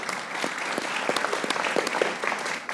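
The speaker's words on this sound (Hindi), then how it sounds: "आज बैठे उसकी तालियां बजाइए बाबर।" Studio audience applause on a TV cricket panel show, steady dense clapping throughout with a few sharper individual claps standing out.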